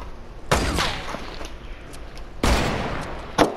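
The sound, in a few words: sniper rifle gunfire in the video game Fortnite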